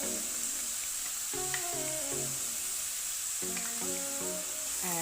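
A pan sizzles loudly and steadily with garam masala and mint leaves as plain yogurt goes in. Broad frying hiss runs throughout, and bright tonal music plays over it.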